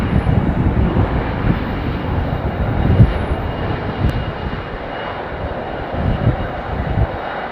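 A Boeing 777 at London Heathrow Airport gives a steady, loud engine roar mixed with gusting wind, continuous across the whole stretch with no speech.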